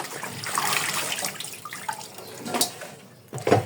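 Tap water runs steadily into a sink while leafy greens are rinsed, a close continuous splash with brief clatters and splashes near the end, no voices.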